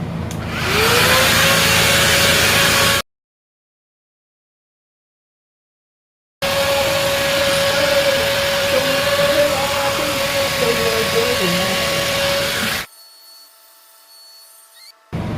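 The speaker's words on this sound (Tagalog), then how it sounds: "papatuyin ko lang muna ang aking buhok" A STAYOUNG 5-in-1 hair styler blow-dries hair with a loud, steady airflow whoosh and motor whine up close, cutting out briefly before running again.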